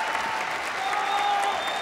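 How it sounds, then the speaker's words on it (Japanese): Steady crowd applause fills the Kuramae Kokugikan arena at a 1977 pro wrestling tag tournament final, a dense, even wash of clapping from a packed house with no breaks. "温かい拍手が沸き起こりました。"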